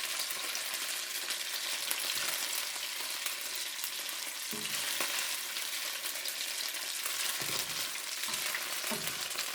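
Thin-sliced bulgogi beef fries in a pan with a steady, dense sizzle throughout, broken by a few soft scrapes and stirs, with no voices.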